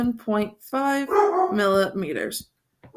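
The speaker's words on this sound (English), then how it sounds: "That's my dog in the background." A dog barks in the background of a geometry lesson, giving a few loud, harmonic barks and whines close together while a person speaks over and between them.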